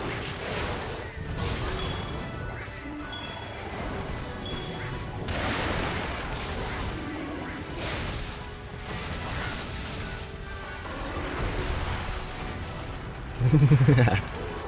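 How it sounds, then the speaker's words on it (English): A launch-pad explosion in a fantasy action video game comes through as a series of loud booming blasts and crashes over continuous game noise, with a heavier thud near the end. "The explosion from the launch pad did its job."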